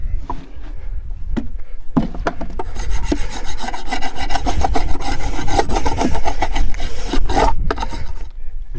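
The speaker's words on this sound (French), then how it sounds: "J'ai donc terminé de gratter l'intérieur de ma ruche." A tool scrapes and rasps against the inner walls of a wooden beehive in repeated strokes, close and steady, with a few sharper knocks mixed in.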